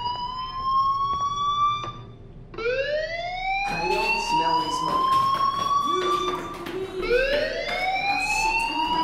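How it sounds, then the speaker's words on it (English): A fire alarm sounds in the video game Life is Strange as a repeating electronic siren, each rising whoop sweeping upward over a second or two, loud and insistent with a steady buzzing undertone and no talk. "Hey, do you hear that fire alarm?"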